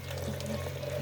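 Hot water pours steadily onto ground coffee, a continuous close hiss and gurgle with a low hum underneath, no talking.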